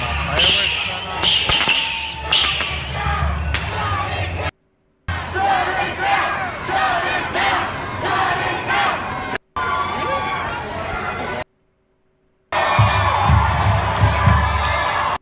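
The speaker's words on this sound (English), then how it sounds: "Now, they're all cheering this fire." A crowd cheers and shouts around a burning school, a loud chaotic roar of many voices with yells, broken by brief silent cuts between segments.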